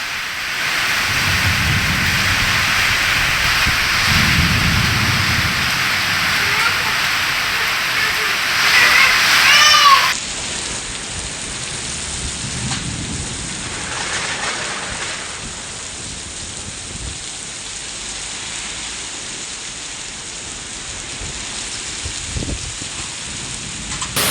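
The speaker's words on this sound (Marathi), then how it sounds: "वादळी वाऱ्यासह अद्यापही पाऊस सुरूच आहे" Steady, heavy unseasonal rain hisses continuously in the Killari area of Latur district, with low gusty rumbles of storm wind underneath; the downpour eases slightly partway through but keeps going.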